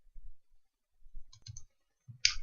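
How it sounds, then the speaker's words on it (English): Sharp mouse clicks, a pair close together near the middle and another short burst at the end, crisp and near with quiet gaps between. "We can switch to another just by double clicking it."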